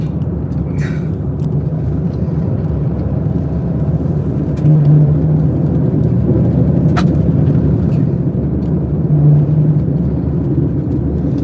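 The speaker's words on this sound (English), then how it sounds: "Now went back to south wind. Now back to north wind." Strong wind gusts during a supercell storm near Wilcox, Nebraska roar as a loud, continuous buffeting rumble against a vehicle, steady throughout with a few brief surges and faint clicks.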